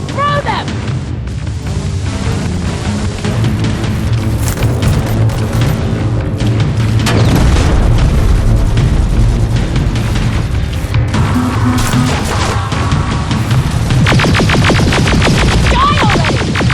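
Grenade explosions burst during a firefight in Terminator Resistance: several heavy booms and rumbling blasts spread over a dense, chaotic battle din, with voices shouting over them.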